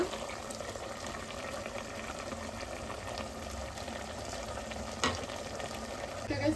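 Ground coconut masala paste is stirred into simmering mutton sambar. A quiet, continuous bubbling and stirring texture holds throughout, with one sharp clink near the end.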